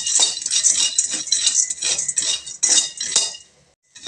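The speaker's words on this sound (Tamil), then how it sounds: "கடலக்காய் நல்லா வறுபட்டுடுச்சுங்க." Peanuts are dry-roasted in a pan, stirred continuously so the nuts rattle and scrape against the metal in dense bursts. The bursts stop into near quiet just before the end.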